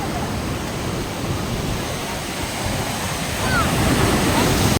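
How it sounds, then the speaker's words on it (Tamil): Big ocean waves roll in at a beach, making a loud, steady roar of crashing surf with wind buffeting the microphone. The wash swells slightly louder toward the end and no one speaks. "அலை ரொம்ப பயங்கரமாக இருக்குது"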